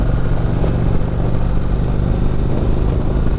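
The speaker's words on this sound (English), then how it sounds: "just that stock exhaust note. It just has such a nice bark" A 2016 Indian Springfield motorcycle engine with stock exhaust rumbles steadily at close range, a deep, continuous exhaust note with a throaty bark, no talking over it.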